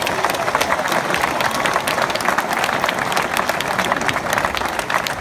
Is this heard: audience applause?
yes